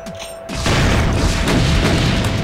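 A rocket launcher blast in a Doom deathmatch, heard as a sudden loud booming explosion that swells in and then rumbles on steadily for a couple of seconds.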